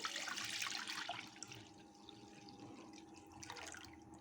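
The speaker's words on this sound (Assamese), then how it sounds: "এতিয়া মই গাখীৰখিনি ঢালি দিছোঁ" Milk pours into a pan for making paneer, a close splashing stream that is strongest at the start, then eases into softer trickling and dripping.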